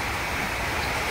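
Heavy wind-driven rain pours down over open fields at dawn, a dense, steady rushing hiss with no breaks, loud and enveloping.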